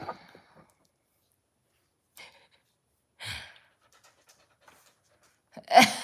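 A dog pants close by in a few short, breathy puffs separated by long silences, with the strongest huff at the end.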